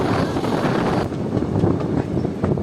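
Steady low rumble of the Puri Patna Weekly Express running at up to 105 km/h past Sitarampur Junction, with wind buffeting, continuous and fairly loud throughout, no voices.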